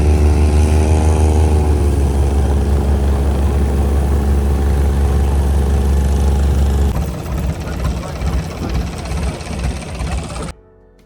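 Engine of a traditional long-tail boat carrying passengers to Koh Lipe island: a loud, steady, deep drone that turns rougher and more uneven partway through, then cuts off abruptly near the end.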